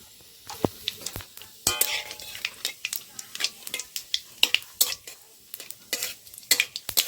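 Whole spices including bay leaf, dried chilli and cumin seeds sizzle in hot mustard oil in a wok, with sharp crackles and spatters plus repeated scrapes and clinks of a spatula stirring.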